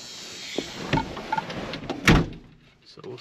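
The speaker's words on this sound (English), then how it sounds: "Can you close the door whenever?" A door on a 1948 Plymouth being shut, with a soft bump and then a solid closing thud, heard up close amid muffled talk.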